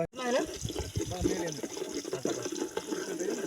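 Water splashes and runs steadily into a pot close by while people talk over it.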